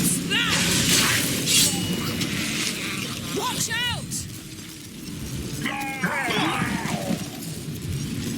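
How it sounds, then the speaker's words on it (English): A magic explosion in The Witcher 3 hits as a loud shattering crash with booming, echoing debris and rumble, followed by scattered crackling bursts and distant shrieks over a constant low rumble. "A magic explosion of some sort"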